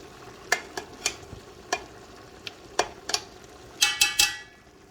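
Biryani ingredients are stirred in a cooking pot, with sharp spoon clinks and scrapes landing in an irregular rhythm and a quick burst of three strokes near the end, over a faint sizzle.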